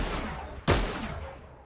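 A DMR rifle firing in a first-person video game: one sharp, loud shot over a steady hiss of background noise, with a short tail fading afterward.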